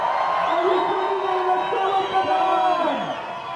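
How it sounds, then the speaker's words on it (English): A crowd at a climbing competition roars and whoops for climber Josh Levin after his final move. A loud, sustained wall of cheering with shouted voices rising and falling throughout. "The crowd is going nuts for Josh Levin"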